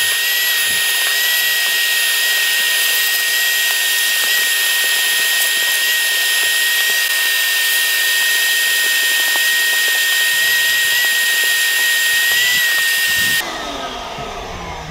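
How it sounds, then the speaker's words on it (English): A vacuum cleaner hoovers the interior of a BMW M40i, running as a loud, steady, high-pitched whine that holds constant for most of the clip, then cuts off abruptly near the end. "let's just hoover this out now"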